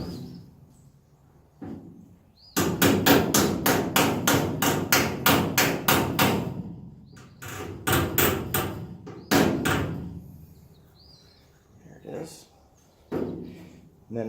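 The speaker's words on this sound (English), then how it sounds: "So what I'm going to do is use a dolly and a hammer." A hammer strikes against a dolly to knock down metal on the dash of a Ford F250 under restoration, with quick rhythmic bursts of loud ringing blows, pauses between runs, and someone talking at times.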